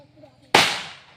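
A firecracker bursts once at a home birthday celebration, a sharp loud bang with a long fading tail, following quiet talk in the background.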